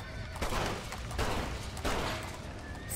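In Red Dead Redemption, a horse neighs loudly amid thick smoke, repeated whinnies rising over a dense rumbling background of gunfire-like bursts and commotion in the game.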